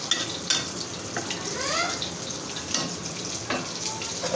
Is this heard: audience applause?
no